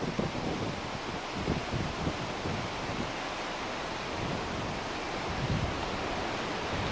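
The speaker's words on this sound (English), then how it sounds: "you can no doubt hear the wind blowing the trees" Wind gusting through trees on a hillside above an old abbey, a steady broad rushing roar with no voices, holding at an even level throughout.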